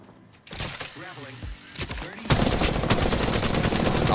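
Automatic gunfire from an Apex Legends solo match rattles in fast, loud bursts that grow denser and heavier partway through, with a voice briefly speaking over the shots.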